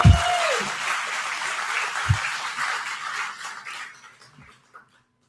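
An audience at an aviation fly-in volunteer meeting claps, starting at full strength and thinning out over about four seconds until only a few scattered claps remain before silence.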